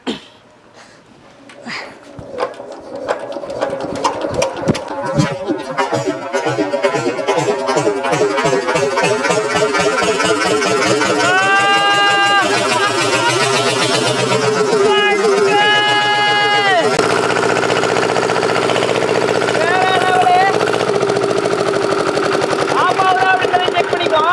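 A restored 40-year-old diesel engine cranks and catches, then settles into a loud, fast, rattling knock that runs continuously, with whining tonal sweeps and background voices mixed in.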